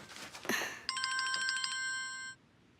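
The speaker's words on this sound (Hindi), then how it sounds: "अब तुम्हारा फोन बज रहा है बेटा" A mobile phone ringtone plays a short electronic melody of bright, rapidly repeated tones, fairly close and clear against a quiet room.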